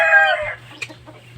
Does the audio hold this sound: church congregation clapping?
no